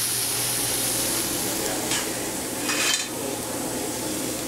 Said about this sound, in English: So put a little butter in the skillet.